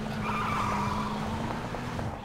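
A car skidding in the PUBG video game, a sustained tire squeal over a steady engine drone that holds loud and close throughout, with no clear crash or flip.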